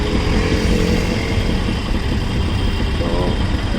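A motorcycle engine runs at a traffic signal after being started, giving a steady, close, rumbling drone with constant road and traffic noise around it.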